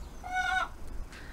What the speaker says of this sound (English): Would anybody like a very noisy chicken?